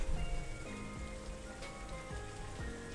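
A heavy rainstorm drums hard and continuously on a surface nearby, a thick even roar of raindrops with scattered sharper hits.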